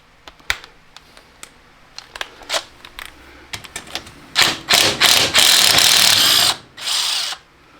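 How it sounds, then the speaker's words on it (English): The drain plug on a pulling tractor is worked loose. Scattered sharp clicks and taps lead into several loud, close bursts of a power tool whirring, then the sound stops, with no talking. "now take the plug out"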